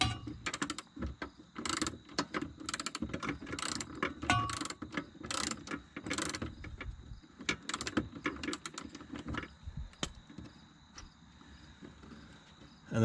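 A screw is turned out inside a 20-year-old Jeep, giving a quiet, rapid series of small ratcheting clicks and metallic ticks, irregular in rhythm, close up and faint with no voices over it.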